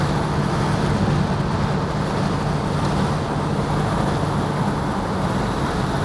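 An Oldsmobile Vista Cruiser wagon with a 455 big block cruises along, a steady broadband road and engine drone heard from inside the car, with no talking.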